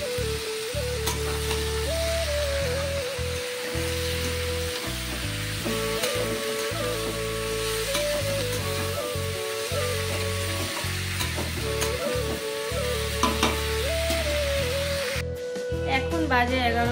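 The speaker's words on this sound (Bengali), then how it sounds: "এই ভাজাটার মধ্যে শুধু নুন আর হলুদটা দিয়েই ভাজা করব।" A fry seasoned only with salt and turmeric sizzles steadily in a pan on a home gas stove. The crackle continues throughout under tonal background music, with occasional stirring knocks.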